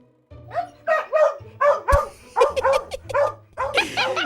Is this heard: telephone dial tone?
no